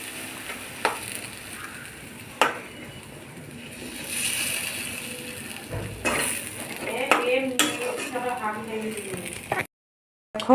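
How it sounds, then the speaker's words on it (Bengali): A fish head frying in spice paste in a kadai, with a hissing sizzle and sharp scrapes and clanks of a spoon stirring against the pan, a voice speaking over it before the sound cuts off briefly. "মশলা দিয়ে মাছের মাথাটা ভালো করে কষিয়ে নিচ্ছি।"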